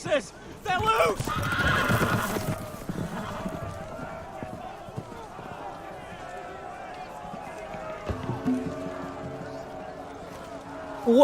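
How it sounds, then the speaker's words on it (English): Loose horses in the Game of Thrones video game neigh loudly and gallop off, a sharp whinny over a rumble of running hooves that settles into steadier clip-clop beneath a low, continuous game soundtrack. "The horses! They're loose!"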